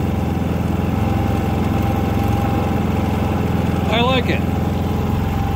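Predator 3500 inverter generator idling on its first start, a loud, steady, close engine drone that runs throughout while someone speaks briefly.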